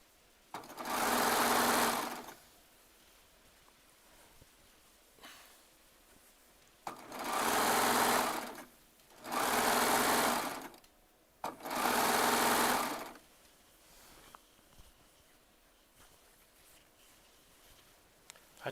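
A Baby Lock Triumph serger stitches a quilt top in four loud, steady buzzing runs of roughly two seconds each, with quiet pauses between them and no voices.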